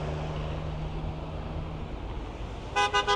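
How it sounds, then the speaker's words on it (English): A passing car honks its horn three quick times near the end, after a steady rumble of roadside traffic outside a 1960s New Jersey burger and hot dog stand. "people are very excited when they pass the WindMill. They always honk their horn."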